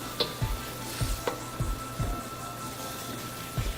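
Ginger and garlic sizzle softly among hot noodles and vegetables for Korean japchae, broken by a regular series of low tossing thumps from stirring every half second or so.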